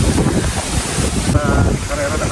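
Strong wind in Siargao buffets the microphone in a steady, loud roar, with voices faintly mixed in underneath.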